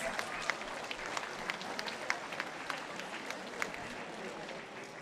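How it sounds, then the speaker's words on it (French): An audience at the start of the 24 Heures de Saint-Jo race applauds the German team, a faint, steady patter of many hands with a few sharper claps standing out. "Je pense qu'on peut applaudir très fort l'équipe allemande et leur souhaiter bonne chance."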